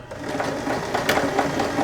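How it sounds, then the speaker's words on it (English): A sewing machine stitches fabric pieces for a stuffed elephant toy in one short, quick run of close, rhythmic stitching. "Sewing machine, couple stitches, back pedal"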